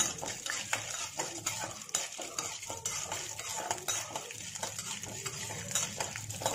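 Urad dal and chana dal fry in oil while a utensil stirs and scrapes the pan, giving a continuous sizzle with irregular clinks and rattles close by.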